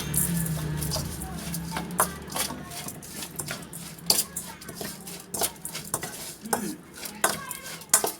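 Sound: stirring lime-dressed shrimp salad (koi kung) in a bowl

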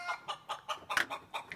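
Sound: chickens clucking on a farm

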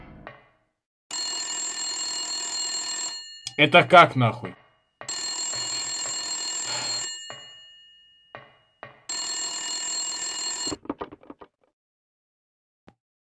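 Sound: telephone ringing in video game Silent Hill

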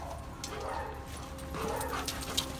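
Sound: dog whimpering and barking

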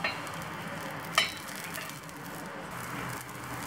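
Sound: black urad dal dosa sizzling on the pan after flipping

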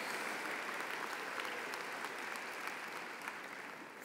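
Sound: graduation audience applause

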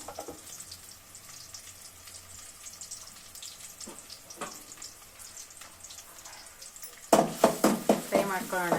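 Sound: onions and garlic frying in oil

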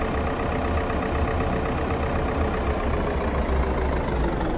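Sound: helicopter engine idling in the video game Unturned

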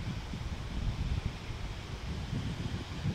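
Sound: wind at seafront

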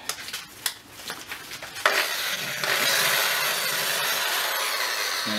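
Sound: wire brush on a drill scrubbing metal

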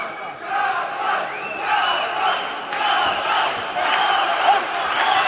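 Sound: boxing crowd chanting the fighter's name Jabbar

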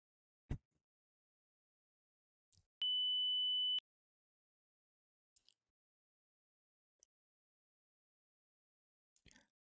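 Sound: test beep tone

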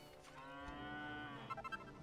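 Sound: cows mooing in Dragon Quest VIII video game

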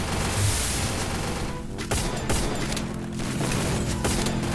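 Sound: gunfire in a video game

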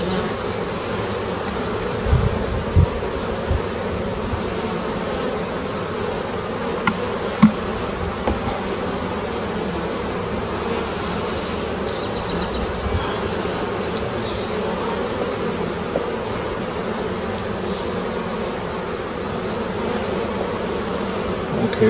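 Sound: honey bees buzzing during a hive inspection

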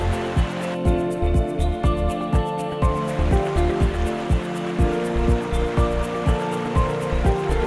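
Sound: glacier meltwater cascading into a river

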